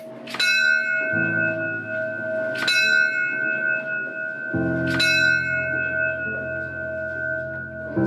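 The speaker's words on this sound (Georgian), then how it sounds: "ზარის ხმა გისოსებს მიღმაც აღწევს" Church bells ring inside a prison church: several bright, resonant strikes sound with long ringing decays, interleaved with deeper bell tolls, loud and alone.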